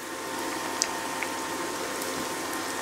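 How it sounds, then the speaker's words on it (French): Lemon beignet dough triangles fry in oil at about 165 degrees, a steady bubbling hiss with faint pops and crackles, close and even throughout. "triangles sont prêts, vous venez donc les baigner dans l'huile"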